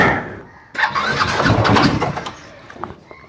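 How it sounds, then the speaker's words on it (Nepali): A motorbike engine cranks and catches, rising into a rough, revving run before settling toward idle, loud and close. "स्टार्ट गरौँ बाइक पहिला"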